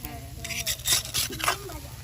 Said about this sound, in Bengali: তো বাকিটা উল্টে পাল্টে চেষ্টা করছি উঠাবার